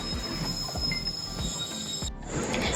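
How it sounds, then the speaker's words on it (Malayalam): A train rolls in with steady high-pitched wheel squeal over rhythmic rumbling clacks of the wheels on the track, loud and close. "അങ്ങനെ നമ്മുടെ ട്രെയിൻ എത്തിയിരിക്കുന്നു."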